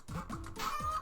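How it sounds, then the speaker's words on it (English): A chicken in the video game Little Goody Two Shoes gives a short run of clucks, close and clear with no talking. "Chicken."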